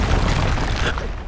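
Expulso explosion spell cast in the Hogwarts Legacy video game, a brief, loud, dense magical blast with a deep booming body, heard alone.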